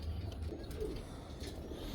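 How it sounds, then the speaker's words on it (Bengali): Lakha pigeons give soft, low cooing, faint and close, over a quiet background. "এই যে আরেক পেয়ার লাখা কবুতর"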